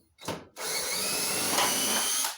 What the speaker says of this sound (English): And then I'll be drilling them out